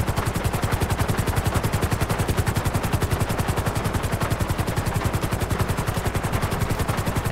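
A helicopter sets down on a helipad at a coastal Coast Guard station in GTA 5, its rotor thumping in a fast, even rhythm, loud and close and steady throughout with no voices.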